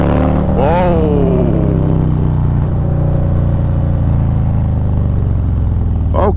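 A Harley-Davidson Low Rider ST with the 131 engine pulls away hard in first or second gear, its loud, close engine note climbing in pitch then holding a deep, steady drone, with wind rush and a brief voice near the start.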